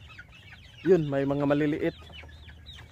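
Chickens and a turkey among month-old chicks, with one loud drawn-out harmonic call lasting about a second over faint chirping, while a person speaks nearby.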